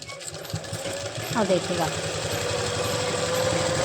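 Sewing machine stitching palazzo pants runs in a steady, continuous mechanical whir close by, with someone speaking briefly over it.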